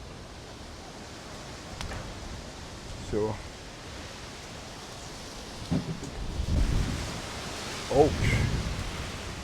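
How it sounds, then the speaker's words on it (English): Strong wind blusters outdoors in a garden before a storm, a constant rushing roar with heavier gusts buffeting the microphone, and a person briefly speaks over it. "I think I'm gonna have to go inside because we are having very strong winds."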